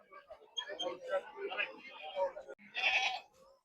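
Goats at a crowded goat market in Miraj bleat in short cries amid constant nearby talk and haggling, one louder bleat standing out near the end.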